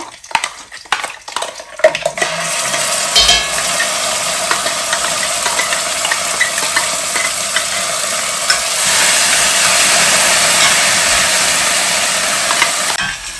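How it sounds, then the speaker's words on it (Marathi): Ground masala spice paste frying in a pan with curry leaves, a steady sizzle and hiss that holds throughout, with a few scraping stirs and utensil clinks at the start. "आता हा जो मसाला आहे हा छान परतून घ्यायचा"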